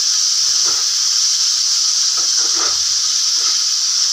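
Potato curry, the kind served with roti, cooks in a pan with a steady close sizzle and hiss throughout, a few faint stirring scrapes breaking through over the continuous frying.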